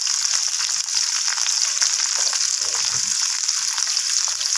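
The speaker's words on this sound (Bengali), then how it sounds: "তো আমি এখানে কেটে রাখা টমেটোগুলোকে তেলের মধ্যে ছেড়ে দিচ্ছি।" Chopped tomatoes with salt and turmeric fry in hot oil, a loud, continuous bright sizzle with faint crackles throughout.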